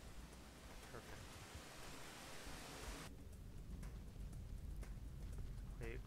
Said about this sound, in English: that rumbling noise, like, that rumbling is both the rain and...